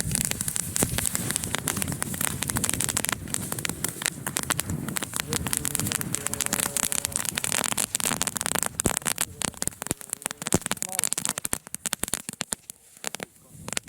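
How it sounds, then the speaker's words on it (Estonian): A firecracker strip set off at a New Year's Eve celebration crackles in a long, dense run of sharp pops, loud and irregular, with voices talking over it. "pauguriba"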